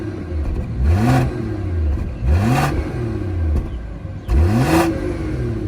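A car engine revs up three times in short bursts, each rising sharply then falling back to a throaty idle, loud and close.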